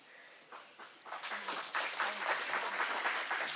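Clapping in a Senate committee hearing room, beginning with a few scattered claps and swelling into steady moderate applause from a small audience.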